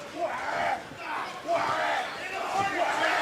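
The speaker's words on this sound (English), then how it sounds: "The crowd goes wild there" A wrestling crowd roaring and cheering in surging waves, loud and sustained across a packed arena.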